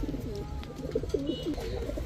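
Several pigeons coo softly nearby in low, rolling murmurs, overlapping throughout, at a pigeon sale.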